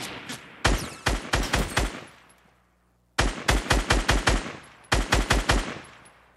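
Automatic rifle fire in the battle royale game Fortnite, three rapid bursts of sharp shots, loud and close, each ringing off into a short fading tail with gaps between.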